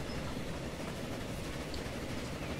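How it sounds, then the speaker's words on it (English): A long train rolls downhill in the video game Transport Fever, a steady, moderately quiet rumble and wheel drone that continues unbroken with no talking. "But this is a long ass train."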